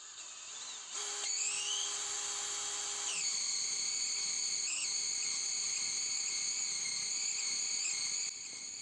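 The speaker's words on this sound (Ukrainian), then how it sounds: "Запускаємо генератор і подаємо 12 вольт сюди на збудження генератора" Alternator from an Opel Vectra B with the X25XE V6 spins on a test setup, giving a steady high-pitched electric whine and drill-like tonal hum that starts after a brief lead-in and holds evenly throughout.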